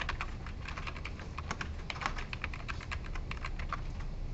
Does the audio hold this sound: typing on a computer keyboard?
yes